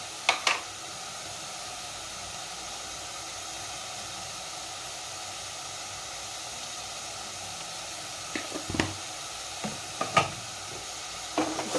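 Turmeric being stirred into a mutton curry frying in a pot, with a steady sizzling hiss throughout and a few louder scraping stirs near the start and again toward the end.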